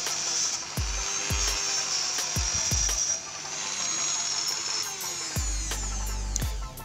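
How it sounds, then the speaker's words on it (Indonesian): A cutting tool opening up an LED reflector, a continuous high-pitched whine of a small rotary tool with repeated low thumps and knocks as it bites into the housing. "harus menggunakan alat pemotong untuk membukanya"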